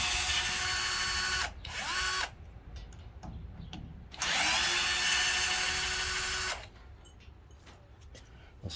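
A power drill backs screws out of an old curtain bracket, with two long loud whirring bursts separated by quieter handling noise and brief pauses.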